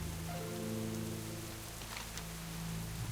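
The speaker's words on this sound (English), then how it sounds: "I like the rain ambience" Steady rain ambience from the Duskhaven area of Gilneas in World of Warcraft, with a constant patter of drops and soft low droning tones underneath, continuous and even throughout.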